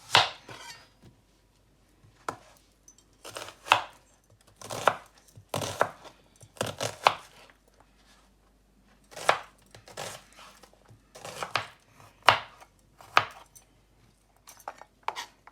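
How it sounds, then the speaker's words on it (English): Knife chopping coriander on a cutting board in an Asian home kitchen, sharp irregular bursts of close, crisp blade strikes separated by short pauses, with no talking. "And a little bit of coriander chopped up"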